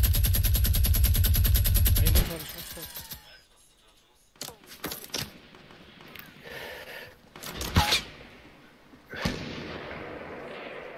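Bursts of gunfire from a Fortnite match, with a dense, loud opening barrage followed by scattered, sharp separate shots, and speech running through the clip.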